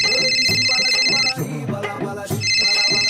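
A phone ringtone plays loudly in repeated musical bursts with a short gap in the middle, a bright electronic melody sounding close by.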